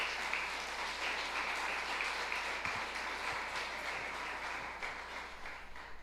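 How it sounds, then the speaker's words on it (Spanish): A church congregation claps together for God during a Spanish-language service, a steady, dense wash of applause filling the room at an even level throughout. "Dale ese aplauso a Dios."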